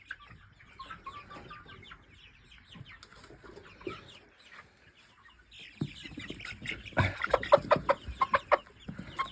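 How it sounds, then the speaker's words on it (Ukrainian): Soft clucking and chirping from a group of young chickens, quiet at first and growing louder and busier near the end. "курчата, які відпочивають."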